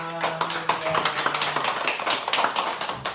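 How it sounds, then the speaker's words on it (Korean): A church congregation at Sunday worship applauding, steady rapid clapping from many hands filling the room, with a brief sustained organ or keyboard tone at the start. "우리 하나님께 영광의 박수 돌리겠습니다"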